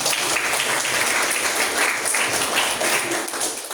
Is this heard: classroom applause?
yes